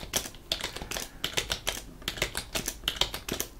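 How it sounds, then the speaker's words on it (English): Rapid keystrokes clatter on a computer keyboard in quick, uneven bursts, close and clear with no talking. "As you see, I can type rather fast."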